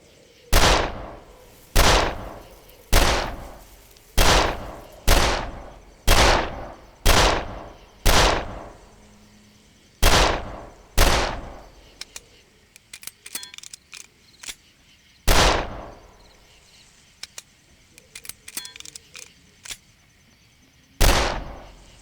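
Rifle gunfire in the video game Darkest of Days: about a dozen sharp, loud shots at fairly regular intervals of a second or two, with quieter clicks and handling noises in the pauses and a final shot near the end.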